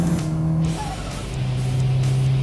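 A car slides on a road with its tyres squealing under a steady, loud engine drone; the squeal is partly masked by the engine, and no one speaks.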